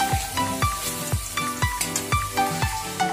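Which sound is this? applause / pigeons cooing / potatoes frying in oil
potatoes frying in oil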